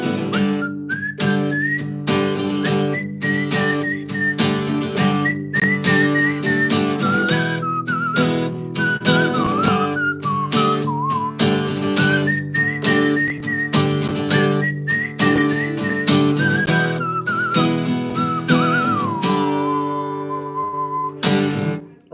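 Several people whistle a slow, familiar melody together over a steady rhythmic backing, the tune carrying clearly and fading out at the end.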